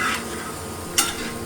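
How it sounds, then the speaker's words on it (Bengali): Food fries in a pan with a brief, close crackling sizzle and a single sharper spatter partway through. "এখন সবাই ভাজাভুজি চলছে"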